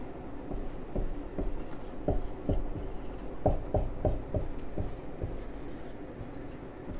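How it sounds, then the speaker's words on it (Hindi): Writing by hand during a chemistry lesson on isotopes: a pen or marker scratches and taps in short, uneven strokes, close and steady over several seconds with no talk. "चलो मैं भी लिख दे रहा हूं।"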